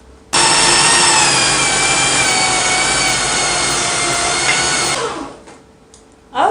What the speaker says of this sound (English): Now I am going to grind the meat with my grinder.